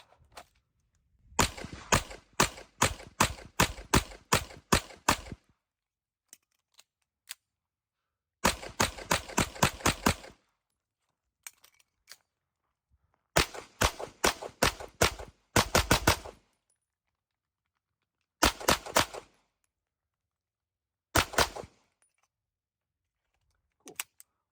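Shots from a Staccato XC pistol at an outdoor range about 7 yards out, fired in rapid strings of sharp cracks, with clusters of around ten shots, then shorter bursts of three to six, separated by silent pauses.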